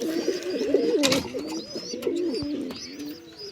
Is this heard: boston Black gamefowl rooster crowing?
no